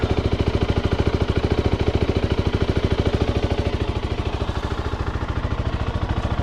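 A Zontes 310X motorcycle engine, just restarted after three months of winter storage, idles with a steady, rapid, even pulse. It is close and loud throughout, with no talk.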